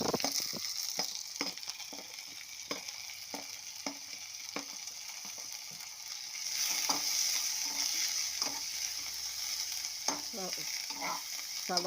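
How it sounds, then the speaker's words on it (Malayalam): Onions sautéed in a pan, a steady frying sizzle punctuated by a regular series of spatula scrapes and taps against the pan. The hiss swells louder midway, no talking. "സവാള നല്ലപോലെ വഴറ്റി"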